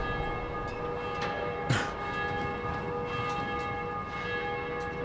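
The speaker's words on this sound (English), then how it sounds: "there's that scary bell, that church bell" Church bell tolling in the zombie game Dying Light, a bright metallic ring against steady in-game ambience with a sustained hum, one clearer strike standing out near the middle.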